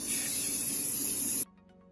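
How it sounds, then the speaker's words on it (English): A can of black spray paint and primer hisses in one steady, close burst for about a second and a half, then cuts off abruptly to near silence. "I'm going to spray paint them with this black paint and primer."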